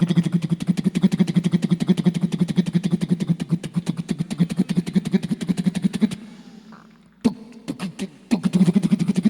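A voice imitates a Bullet motorcycle starting and idling, producing rapid rhythmic thumping pulses, then a brief pause with a few sputters before the steady chugging resumes.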